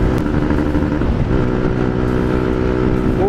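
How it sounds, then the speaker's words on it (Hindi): Motorcycle exhaust from a bike fitted with adjustable clutch shifters, a loud continuous engine drone with rising revs near the end, recorded up close while riding with no talk. "ओहो एग्जॉस्ट में मज़ा आ रहा है"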